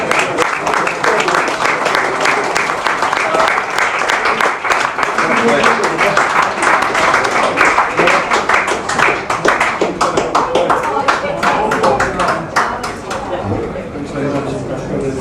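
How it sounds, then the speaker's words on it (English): Loud, close audience applause at an evening talk with a football legend in a Dundee venue, sharp individual claps rattling steadily for about fifteen seconds amid some crowd chatter and voices. "Big round of applause, well done."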